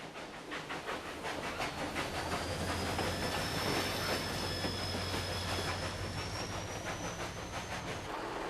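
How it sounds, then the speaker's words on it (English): A diesel locomotive hauls passenger carriages along a UK railway, its steady engine drone and rolling wheel clatter continuous and loud, with a faint high squeal sustained above the rumble throughout. "Here comes another kind of diesel engine."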